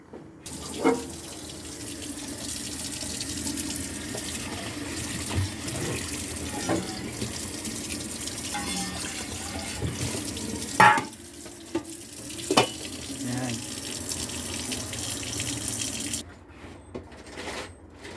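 Water runs steadily from a kitchen tap as vegetables are drained for a simple salad, a continuous splashing stream with a few sharp clunks and knocks before the flow stops near the end.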